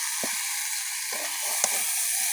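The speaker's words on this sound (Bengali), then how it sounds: "জিরে ধনিয়া বাটা 2 চামচ দিলাম। দিয়ে আবার ভালো করে কষে নিতে হবে।" Cumin-coriander paste sizzles steadily in a hot pan, a continuous bright hiss broken by a few short stirring scrapes, close and fairly loud with no talking.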